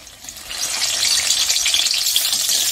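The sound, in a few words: vegetarian mock fish pieces frying in hot oil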